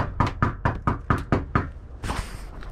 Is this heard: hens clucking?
no